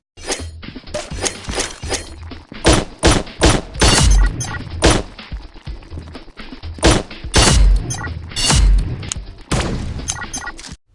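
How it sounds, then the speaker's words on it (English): Ritual revolvers firing in the video game Pixel Gun 3D, a rapid string of loud, sharp shots in quick bursts with short pauses, close and dominant throughout with no talk. "today I'm going to review the ritual revolvers in gameplay and weapon test"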